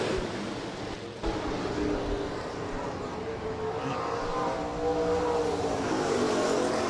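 Stock cars racing in a speedway heat race at Rapid Speedway, a steady loud roar of engines with rising and falling revs as cars pass, continuous throughout.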